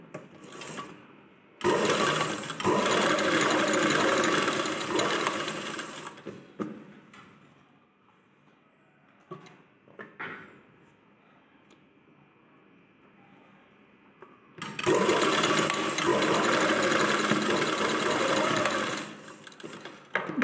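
A sewing machine runs in two long bursts while stitching the shoulder seam of a garment lining, loud close mechanical whirring with a quiet pause of handling noise between runs.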